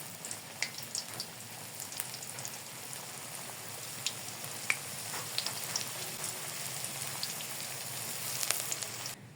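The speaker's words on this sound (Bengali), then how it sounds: "এভাবে আমি বাকি সবগুলো ঢেঁড়স ভেজে নিব।" Okra pakoras frying in hot oil give a steady crackling hiss with scattered sharper pops all the way through, with no talk over it.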